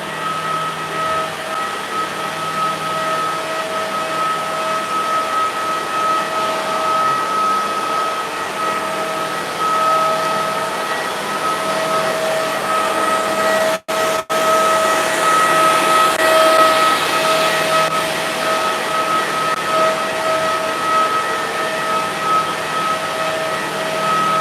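A double-sided edge banding machine runs in a factory with a steady, loud mechanical drone and a constant high whine, one brief dropout partway through, and no talk.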